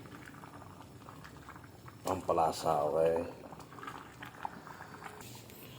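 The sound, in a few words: mung bean soup boiling in a pot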